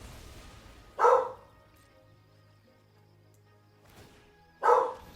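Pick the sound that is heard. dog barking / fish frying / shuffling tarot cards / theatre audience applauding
dog barking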